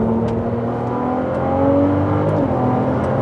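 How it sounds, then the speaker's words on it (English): A Porsche Cayman GT4 RS with a naturally aspirated engine revs steadily, a loud, close, sustained rising drone with smooth harmonic tones and no voices. "But it's a really good little engine. It likes to rev out."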